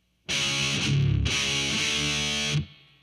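A distorted electric guitar plays a short heavy metal riff: a muted low chug, then a struck power chord ringing loud and sustained for over a second before stopping abruptly, with no talking.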